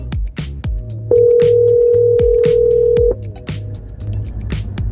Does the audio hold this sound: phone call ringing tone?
yes